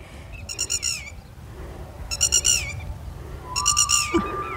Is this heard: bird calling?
yes